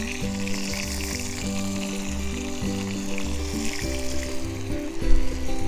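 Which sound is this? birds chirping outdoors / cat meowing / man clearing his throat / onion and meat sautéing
onion and meat sautéing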